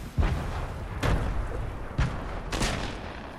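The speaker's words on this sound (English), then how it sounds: "Throw grenades." Grenades go off in a Fortnite match, with four sharp booming blasts spaced about a second apart over a rumbling game background.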